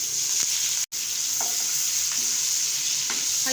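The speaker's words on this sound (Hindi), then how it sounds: "हल्का सा बस हमने इनको सौटे कर लेना है।" Cumin seeds with dried red chillies and chopped green chillies sizzle gently in a pan of hot oil, a soft continuous crackle with occasional faint stirring scrapes and a brief dropout, quiet and close.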